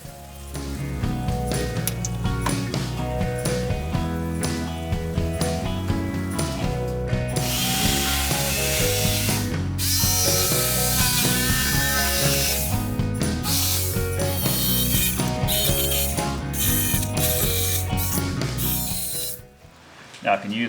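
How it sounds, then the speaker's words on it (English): A jigsaw cuts through a 9mm MDF template with a paper map glued to it. It makes a continuous loud, rattling buzz for about nineteen seconds, then cuts off near the end. "get us started with the jigsaw"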